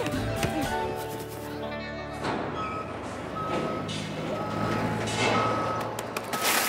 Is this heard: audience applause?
no